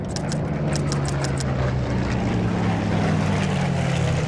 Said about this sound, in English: Let the purring engines go over.